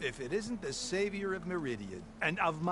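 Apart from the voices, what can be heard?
No everyday noises stand out.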